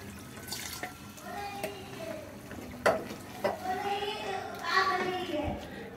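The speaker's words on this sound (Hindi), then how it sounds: "इसमें थोड़ा सा पानी डाल के" Water poured into eggplant curry frying with masala, a splashing pour and hiss over ongoing sizzle and stirring, with a person talking over the cooking sounds.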